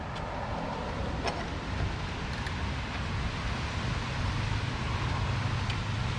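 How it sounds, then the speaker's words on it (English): Strong, gusting wind roars steadily outdoors on a very windy day, a dense low rumble with microphone buffeting that never lets up. "You can hear the wind is absolutely screaming today."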